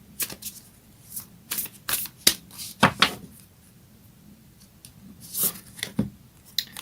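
Moonology oracle cards are shuffled in short, irregular riffles and snaps, close and crisp, with quiet gaps between the bursts.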